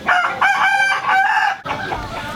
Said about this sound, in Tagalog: All these roosters here are being trained to fight